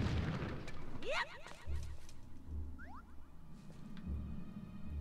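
A bomb goes off in the video game Zelda: Wind Waker, a muffled boom with whooshing game effects and short low thuds at moderate loudness.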